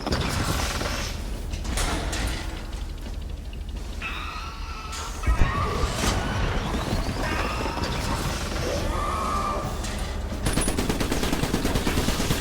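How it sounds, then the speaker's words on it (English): Artillery cannon fire in the Iron Brigade video game on Xbox Series S comes as repeated booming shots and mechanical clatter over a dense, continuous wash of game noise, with rapid firing bursts throughout. "Let's put an artillery cannon right there."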